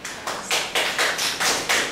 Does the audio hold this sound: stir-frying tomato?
no